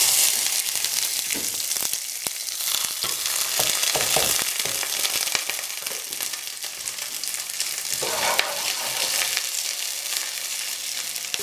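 Half a chopped onion sautéing in a hot pan, a continuous close sizzle with occasional scraping and stirring clatter, no voices.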